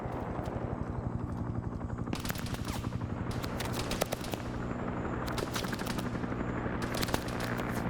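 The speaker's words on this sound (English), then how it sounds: "Chopper's firing again." Helicopter-mounted machine gun in the Vietnam-era video game Arma SOG Prairie Fire fires in sustained bursts over a steady rotor drone, with dense crackling gunfire continuing throughout.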